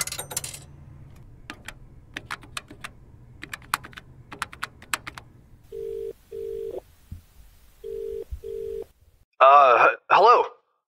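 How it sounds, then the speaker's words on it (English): A phone number is dialed in a phone booth: button presses click in a quick irregular run over a low hum, followed by two pairs of steady tones and a warbling ring, close and clear. "you begin dialing Bernard's number"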